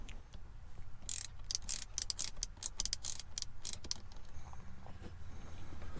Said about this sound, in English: Use a 12mm wrench and a 12mm socket to loosen and remove the bolt.